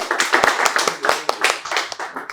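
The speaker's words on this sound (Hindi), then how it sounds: "तो एक बार तालियां हो जाए भाई के लिए।" Students at an AC PCB repairing training institute clap together in quick, sharp, close-up claps that form an uneven burst lasting a couple of seconds.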